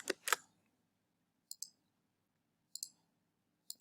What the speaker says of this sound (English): if I click on that